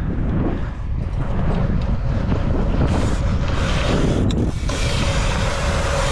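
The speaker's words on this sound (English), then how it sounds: "There's that wind." Steady, loud wind buffeting the microphone outdoors at a pumptrack, a continuous broadband rumble with gusty swells throughout and no speech.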